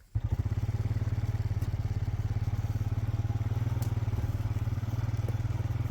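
Four-wheeler engine idling and chugging while stock are mustered on a working dog property: a steady, rapid low engine pulse that carries on unbroken and fairly close.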